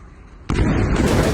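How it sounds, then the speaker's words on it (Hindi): A sudden loud explosion in a war zone during the Iran-Israel conflict, one sharp boom that jumps out of quiet background noise and then rolls on briefly. "जोरदार दो धमाके हैं"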